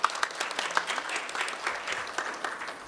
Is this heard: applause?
yes